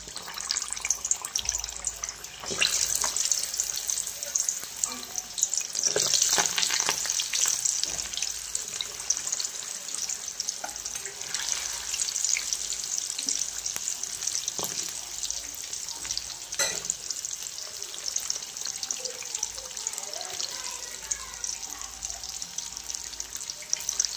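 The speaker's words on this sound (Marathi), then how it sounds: "तेल गरम झाले वड्या तळून घेते" Marathi vadis (fritters) fry in hot oil over a low flame, a steady close sizzle and crackle running throughout with occasional stirring and clinks, and no talk.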